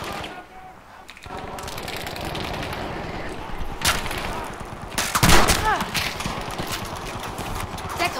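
Lewis machine gun fire in Battlefield 5, rapid bursts of automatic shots crackling amid dense battlefield din, with a louder burst near the middle and clattering noise throughout.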